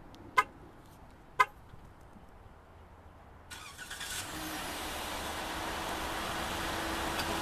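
2015 Chrysler 200C remote started by key fob: two short horn chirps, a pause, then the engine cranks and settles into a steady idle with a fan-like hiss, moderately distant.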